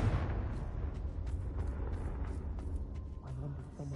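A Confringo spell blast in the Hogwarts Legacy video game, a dense rumbling burst that fills the whole clip with crackling debris-like texture, loud and continuous with small sharp pops throughout.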